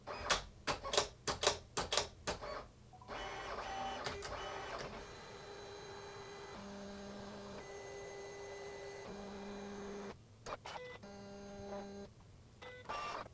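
A Silhouette Cameo 5 cutting and embossing a card, beginning with a quick run of sharp clicks, then a steady motor whir with shifting tones and repeated short buzzing passes, close and alone.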